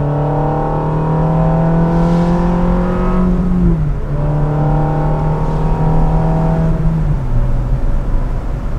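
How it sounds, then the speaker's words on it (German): A fiery Italian sports car engine revs hard toward its 8500 rpm limit. A loud, sustained, buzzing howl holds steady, then briefly dips twice as the revs fall. There is no talking. "Der Motor ist extrem feurig, italienische Emotion, 8500 Umdrehungen, dort ist eben das Drehzahllimit, und das klingt schon brutal."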